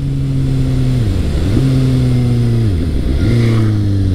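A Suzuki GSX-S750 motorcycle engine running loud and close, its idle note dipping and rising several times as gears are shifted, a steady harmonic drone with brief pitch drops between gears.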